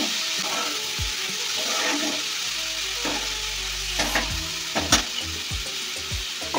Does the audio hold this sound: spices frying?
yes